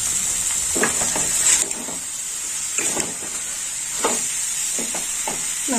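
About 300 grams of grated carrot sautéing in a pan for a prawn curry give a constant close sizzling hiss, broken by several short scraping stirs of a spatula.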